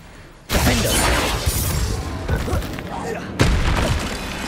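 Confringo fire spell exploding in the Hogwarts Legacy video game, a dense burst of booming blasts and crackling debris with a second heavy impact near the end amid chaotic battle noise.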